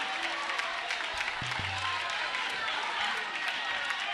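Studio audience applause and crowd noise for a young female singer stepping onto a French TV talent show stage, a steady wash of clapping with a faint crowd murmur underneath.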